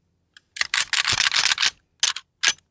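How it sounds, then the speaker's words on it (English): An FAL rifle's bolt is racked several times in quick succession. Each stroke gives sharp, loud metallic clacks, first a dense cluster of them and then two separate racks near the end, with no talk over them. "Then I want to rack it multiple times, at least 3 times."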